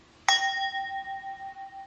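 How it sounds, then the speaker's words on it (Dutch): A drinking glass is tapped once like a musical instrument, giving a single bright ping that rings on with a clear, slowly fading tone in a quiet room. "Misschien kun je een mooi glas gebruiken."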